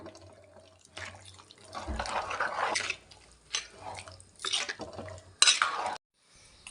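Spoon stirring jackfruit gravy in a pot, with scraping and sloshing in short irregular bursts separated by brief pauses, close and moderately loud.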